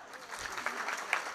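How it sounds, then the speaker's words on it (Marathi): An audience at a kirtan gathering claps together in a steady patter of applause, moderately distant and fairly soft, lasting just over a second. "टाळ्या वाजवा."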